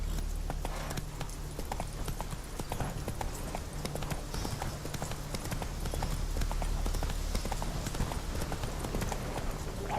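Roach, the horse in The Witcher 3, gallops with fast, steady hoofbeats that run continuously over a low game ambience.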